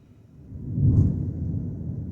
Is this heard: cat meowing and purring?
no